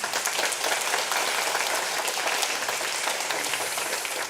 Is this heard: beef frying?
no